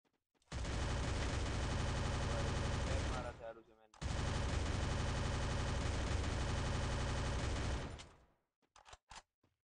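Sustained automatic gunfire from Free Fire, two long dense bursts with a brief gap between them, loud and close, ending in a few scattered single shots.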